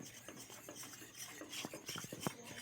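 A spoon stirs milk powder into warm milk in a bowl, producing soft, quiet scraping and rubbing strokes in an uneven rhythm, close-up and faint with no talk.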